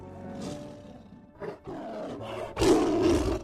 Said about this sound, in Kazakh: Жолбарыс.